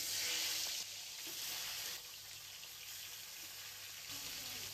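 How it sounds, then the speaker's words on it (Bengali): Fish heads frying in mustard oil in a kadai, giving a steady broad sizzle and crackle that holds throughout, fairly quiet and with no talking. "মাছের মাথাগুলো যতক্ষণ ভাজা হচ্ছে"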